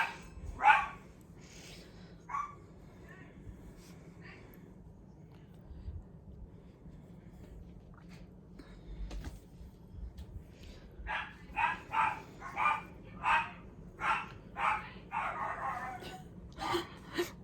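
Several dogs bark indoors at a house, a few scattered woofs early on, then a quicker run of repeated barks near the end, fairly close and loud over a quiet room.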